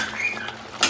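Metal plate lid lifted off a pan of vegetable rava upma cooking on low heat, a short clatter and scrape with a bright metallic clink near the end, close and fairly loud.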